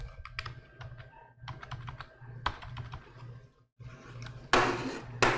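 Fingers type on a Logitech wireless keyboard with a brisk, uneven run of close plastic key clicks, a short pause, then a few more taps and a louder clatter near the end.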